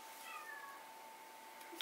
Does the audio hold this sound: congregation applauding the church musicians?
no